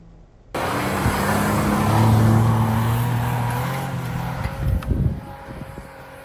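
A pickup truck on BFGoodrich K03 tires aired down to about 4 PSI climbs a snowy hill, its engine droning and rising in a loud close strain, then tapering off with a few bumps and clunks near the end.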